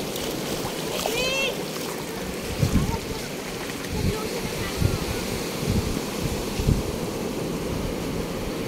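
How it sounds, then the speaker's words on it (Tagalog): Ocean waves splashing and surging at a beach in Real, Quezon, where the surf is rough and big; a steady wash of water with several louder splashes, and faint voices in the background. "ang alon ang lilikot, tapos malalaki"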